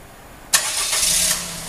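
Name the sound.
Suzuki Spacia Custom engine started by Grgo remote starter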